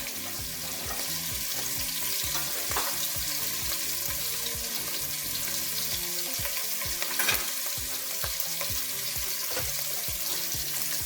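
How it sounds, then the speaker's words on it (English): Andouille sausage frying in a pan, a dense, even sizzle that crackles continuously at close range, with a few sharper pops and faint clinks along the way. "I'm gonna let it fry a little bit."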